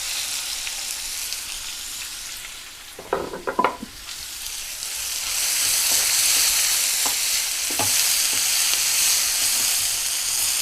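Thinly sliced onions sizzle steadily in hot oil in a pan, a loud, constant frying hiss broken by a few stirring scrapes and clinks near the start.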